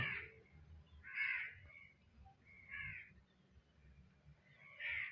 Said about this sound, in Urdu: شاید آپ بیک گراؤنڈ میں بھی آواز سن رہے ہوں گے کوے کی